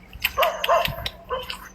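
Dogs at a temple bark and yip in a quick, uneven series of sharp calls, loud and close, with short gaps between bursts.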